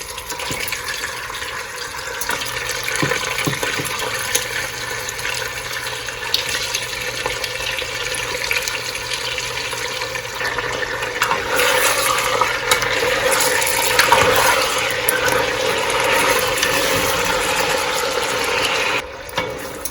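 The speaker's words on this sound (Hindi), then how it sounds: "हम चिकन को ऑयल में इतना फ्राई करेंगे कि वो अपना कलर चेंज कर ले।" Chicken pieces frying in hot oil give a steady, loud, broadband hiss that runs through the whole stretch without pause and with no talking.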